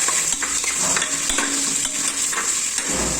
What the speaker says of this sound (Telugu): ఇలా సన్నగా తరుక్కున్న ఆనియన్స్ వేసుకుని ఇది కొంచెం గోల్డెన్ బ్రౌన్ కలర్లోకి వచ్చేదాకా తీసివేయాలి.